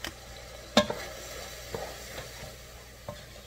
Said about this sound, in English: We're going to stir it, keep it going so that it don't taste doughy.